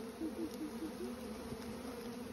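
A swarm of honeybees moving into a bait hive, a dense continuous buzzing hum from many insects close by, steady with slight wavering, no voices.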